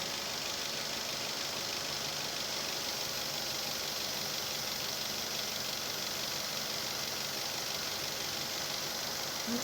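Steady, even idle from a Daihatsu Terios engine fitted with a cold air intake, a continuous mid-pitched hum with faint hiss and knock, close by and without speech.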